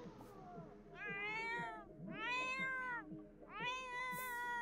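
A cat in The Sims 4 game meows three times in a row, each a drawn-out, wavering cry with short pauses between, fairly clear over quiet in-game background sounds.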